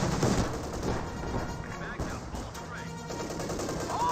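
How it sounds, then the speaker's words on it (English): Bursts of rapid gunfire crackle through a dense Company of Heroes 2 game soundscape, with scattered shots and rumbling under it, continuous and fairly loud. "There's the gunfire."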